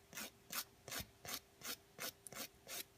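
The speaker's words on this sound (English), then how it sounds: "file just a little bit more off my nail" A nail file rasps back and forth across a fingernail in eight quick, evenly spaced strokes, close and crisp, with no voices.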